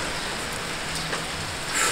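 Steady rain falling outside on a cold day, an even broadband hiss at moderate level with no voices.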